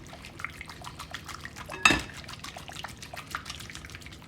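Brownie batter with melted butter being stirred in a bowl gives a steady run of soft, wet clicks and scrapes, with one sharper knock of the utensil against the bowl partway through.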